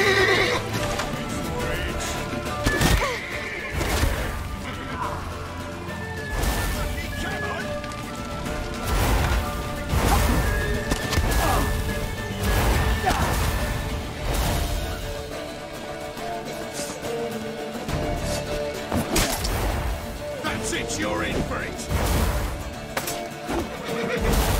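A horse in The Witcher 3 neighs and whinnies loudly while its hooves clip-clop at a gallop, mixed with crashes and thumps of combat and game music, and brief shouts of speech over the top.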